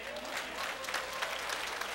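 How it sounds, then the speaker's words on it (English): A church congregation applauding the mothers during a Father's Day sermon, a continuous wash of clapping heard at moderate distance with faint voices mixed in. "Let's give the mothers a round of applause."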